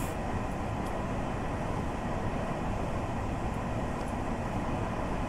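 Passenger train running in the Train Sim World Long Island line, a steady broadband rumble and rolling rail noise throughout, fairly loud and continuous with no talk.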